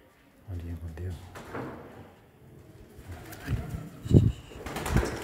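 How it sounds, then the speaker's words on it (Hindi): Pigeons cooing indoors, with soft wing flutters and a creak like a door or drawer, while people talk nearby. "अंदर कबूतर आते हुए"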